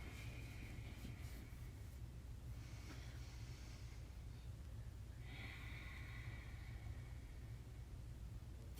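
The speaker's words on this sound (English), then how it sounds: "Inhaling and exhaling." Slow, deep yoga breaths, two soft airy inhales and exhales drawn close and quietly over a constant low hum.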